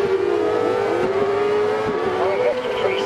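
Engines rev hard and steadily in Dirt Rally 2.0, with an open-wheel F1-style go-kart and rally cars racing the Hell, Norway rallycross track; the loud, continuous whine rises and shifts pitch throughout, with no clear break.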